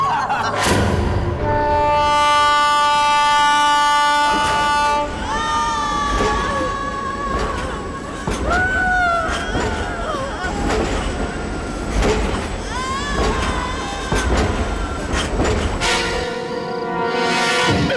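The Khajan Mail passenger train running, a loud continuous rumble and clatter of railcars with ringing, whistle-like tones rising and falling over it throughout. Nobody is talking.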